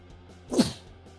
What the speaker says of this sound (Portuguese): Deixa eu espirrar aqui, peraí.